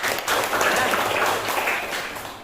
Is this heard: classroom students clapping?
yes